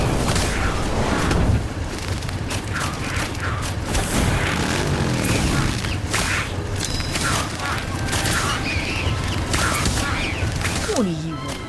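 A spell-casting battle in Harry Potter: Magic Awakened, with a fire spell among rapid whooshes, booms and bursts of game effects that come dense and loud while a voice calls out over them.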